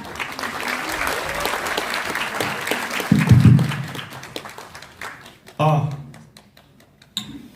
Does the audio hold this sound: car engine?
no